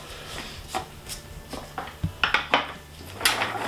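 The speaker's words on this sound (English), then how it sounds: "Peppers and onions in the pan." Sliced peppers and onions tipped into a pan for a smoked eye of round beef dip, giving a run of light clattering knocks and scrapes against the pan, close and fairly soft, with no talking.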